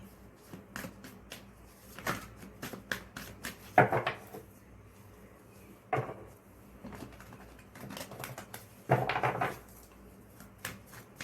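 Tarot cards being shuffled close by give off soft, irregular clusters of papery taps and riffles, quiet and intermittent with short pauses between bursts.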